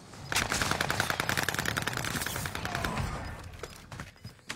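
Rapid automatic gunfire in a Call of Duty match, a loud sustained burst of shots followed by scattered single pops as it tapers off.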